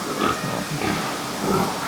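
SGI F5 pigs on a pig farm grunt and snort close by, in short, rough bursts over a continuous barn background.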